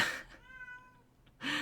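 A cat gives one drawn-out, tonal meow in the middle, bracketed by a person talking just before and right after.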